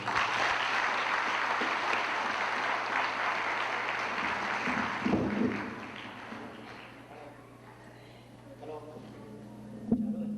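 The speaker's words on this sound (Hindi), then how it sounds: "आप लोग तालियां बजाएं" Audience applause for a poet at a Hindi poetry recital in New Jersey, a dense, steady clapping that fills the first half, then fades to scattered claps with some murmuring and a brief voice near the end.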